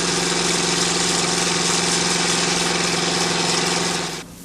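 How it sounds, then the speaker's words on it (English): An old bulldozer engine drives a large suction pump at a tin mine, idling in a steady, loud mechanical drone with constant vibration that cuts off near the end, with no talk. "Utilising old bulldozer engines to run the pumps"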